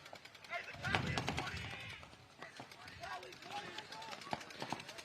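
Rapid paintball marker fire crackles in bursts throughout a pro X-Ball match in the women's and semi-pro division, mid-distance shots layered under ongoing commentary talk.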